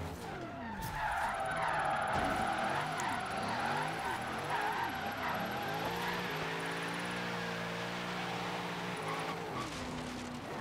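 A 2016 Camaro SS drifts in Forza Horizon 3, its engine revving hard with rising and falling pitch while tyres squeal and spin continuously for about ten seconds, loud and close, with no talk over it.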